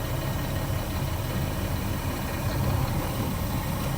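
A truck engine idles steadily with a low, even rumble while the trolley brake is applied and tested, the vibration constant and close with no talk over it.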